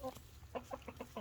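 Chickens cluck in a series of short, rhythmic calls in a winter coop during sub-freezing temperatures, fairly close with a low steady background hum.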